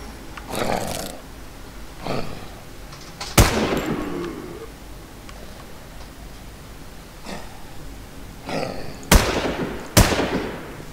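Several sharp gunshot bursts crack out in a video game, spaced irregularly with a close pair near the end, over quiet background noise.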